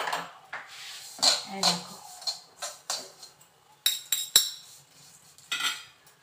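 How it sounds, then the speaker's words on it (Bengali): A knife scrapes and clinks against a wok while food fries, giving a series of uneven metallic taps and scrapes at close range, with a brief bit of speech in between. "ছুরি দিয়ে আস্তে আস্তে করে এগুলো একটু ভেজে নিই। সমানে নাড়তে হবে"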